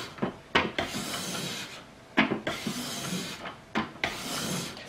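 A leather paring blade is honed on a sharpening stone, producing repeated gritty scraping strokes in bursts of several quick passes, close and moderately loud.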